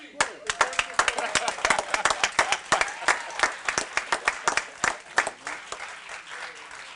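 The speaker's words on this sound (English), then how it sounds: "Big round of applause." Audience applauding at a fire department swearing-in ceremony for a new fire chief and deputy chief in Aurora, with dense, sustained clapping from a room full of people that stays loud and then tapers slightly toward the end.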